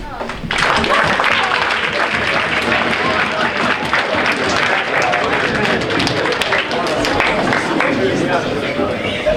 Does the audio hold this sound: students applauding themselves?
yes